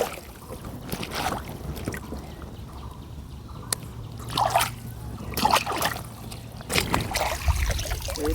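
Water trickles and splashes as taro stolons are rinsed outdoors, soft dribbling and intermittent sloshes close by with handling noises throughout.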